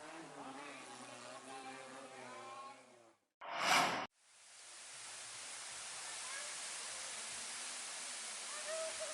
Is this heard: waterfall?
yes